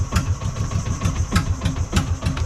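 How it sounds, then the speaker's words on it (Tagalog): An 18 HP outboard boat engine on a fishing boat in Palawan runs in a steady, rough putter with regular knocking pulses, loud and close, with no voices over it. "Putok lang ang andar ng makina."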